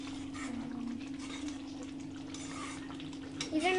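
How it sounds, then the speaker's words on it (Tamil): Kadai paneer being stirred gently in a pan, a soft continuous sizzle with faint scraping and light utensil clinks against the metal, a steady hum underneath and a brief brighter clatter near the end. "நீங்கள் இதை கிண்டும் போது அந்த பன்னீர் உடையாமல் பார்த்து கிண்டுங்க."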